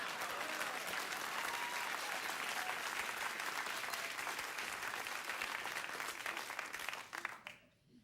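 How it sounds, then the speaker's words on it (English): Late-night talk show studio audience gives sustained, dense applause that holds steady for several seconds, then quickly fades out near the end. "So a round of applause"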